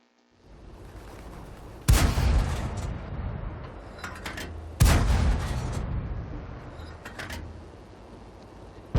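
Two loud, sharp tank cannon blasts in World of Tanks ring out about three seconds apart, each followed by a long rumbling decay over steady battlefield ambience.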